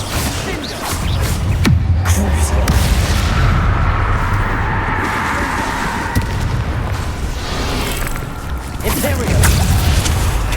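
Bombarda and Confringo spell explosions from the Hogwarts Legacy video game, loud repeated booms and cracks over a dense, continuous battle rumble.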